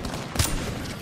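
Gunfire in a multiplayer shooter video game, a short dense burst of shots from several directions with one sharper crack standing out, fairly loud against a busy background of game sound.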